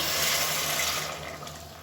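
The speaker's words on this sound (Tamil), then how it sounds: "அந்த தண்ணி வந்து சேர்த்துக்கலாம்." Hot water poured into a pan of chickpea curry (kadalai curry) makes a steady, close rushing pour that eases off toward the end, with no talk over it.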